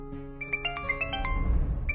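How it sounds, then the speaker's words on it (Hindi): A mobile phone rings with a bright, melodic ringtone of quick tinkling notes in a stepping pattern, heard clearly at moderate volume over a low steady background hum. "मोबाइल बज उठा"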